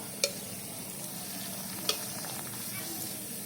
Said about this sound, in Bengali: আর জিলাপিটা আস্তে আস্তে ভেজে নেব